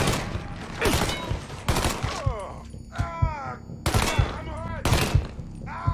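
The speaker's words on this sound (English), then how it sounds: "Fucker won't stop shooting!" Repeated bursts of gunfire in the Mafia III video game: several loud, sharp shots in clusters, with crows cawing between them and someone shouting briefly over the shooting.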